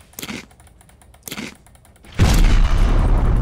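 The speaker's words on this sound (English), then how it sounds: "I just heard an explosion or something back there" A deep, loud explosion booms and rumbles on after two short muffled thumps in the Roblox game Thick Legends, filling the end of the clip.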